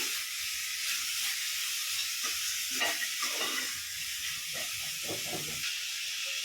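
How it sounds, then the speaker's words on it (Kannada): Country chicken dry roasting in a pan for biryani, giving a steady soft sizzle and hiss with occasional stirring scrapes, moderately quiet and continuous with no voices. "ಒಂದು ಹತ್ತು ನಿಮಿಷ ಹೀಗೆ ಡ್ರೈ ರೋಸ್ಟ್ ಮಾಡ್ಕೋಬೇಕು ಸ್ವಲ್ಪ ನೀರು ಬಿಟ್ಕೊಳ್ಳೋವರೆಗೂ ಈ ಥರ ಡ್ರೈ ರೋಸ್ಟ್ ಮಾಡ್ಕೋಬೇಕು"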